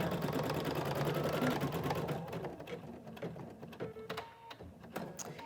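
Embroidery machine stitching an applique, a fast rhythmic mechanical whir and needle chatter that runs steadily, then slows and stops with a few clicks near the end.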